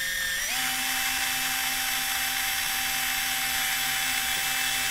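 Stack screws with M3 nylock nuts being driven down on a freestyle drone build, a steady high-pitched whine from a small electric screwdriver that rises in pitch at the start and then holds, loud and close, with no talking.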